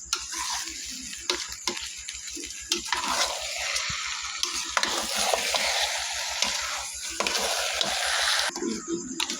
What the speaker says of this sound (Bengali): আমি এখন ভালোভাবে চালটাকে ভালোভাবে নেড়ে চেড়ে ভেজে নিব চাল